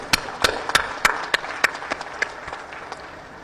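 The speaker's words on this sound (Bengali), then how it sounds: "আমরা তাদের জন্য একটা জোরে হাততালি দিই" An audience at a festive afternoon ceremony applauds, sharp individual claps ringing out and thinning into scattered clapping.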